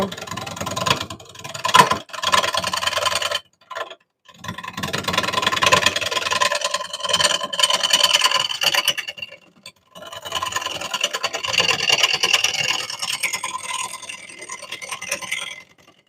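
A wood lathe turning a wooden bowl, a gouge riding the bevel with a steady loud scraping, rasping cut that runs almost continuously, with brief pauses near the start and midway.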